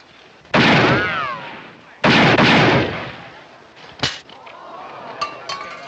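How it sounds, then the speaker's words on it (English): Loud gunshots in a western shootout, two big booming blasts with a ricochet-like whine trailing the first, followed by a sharper single crack and faint clicks and rustles. "That's pretty good shooting, mister."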